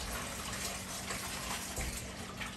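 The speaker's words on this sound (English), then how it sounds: "Run some more water." Kitchen tap water runs steadily while raw chicken is washed, a continuous faint gush with no talk over it.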